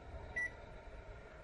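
A direct vent furnace control panel gives one short, clean electronic beep as a timer button is pressed, heard over a low steady hum of the unit.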